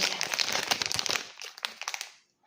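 Plastic packaging of an original Labubu toy is opened, with dense crinkling and crackling close up that thins into a few sparse rustles before falling silent.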